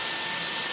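A spray machine pushes thick, lightweight hot pipe coating through its line, giving a steady, loud broadband hiss that holds without a break from start to finish and is heard alone.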